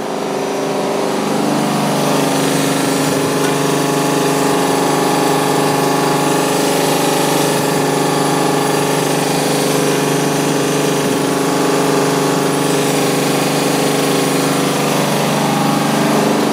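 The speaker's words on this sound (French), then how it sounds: "Le moteur il fait un bruit bizarre quand même." A steam boiler's motor runs loud and continuous, with a steady hammering, rattling mechanical drone that carries on unbroken throughout.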